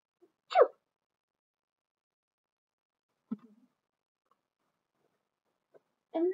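A person reading a children's picture book aloud imitates a bunny's sneeze with one short, quiet, breathy burst, followed by faint soft vocal sounds with long silences between them.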